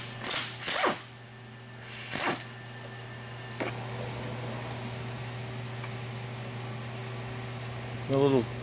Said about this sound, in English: we're starting with a triple spline 8mm, sometimes called XZN. This is removing the 5th gear shift fork